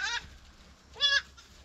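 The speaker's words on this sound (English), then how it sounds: "There's too many goats here." Goats and young kids bleat on pasture, two distinct wavering cries about a second apart, the second louder and closer, with softer calls trailing in the background.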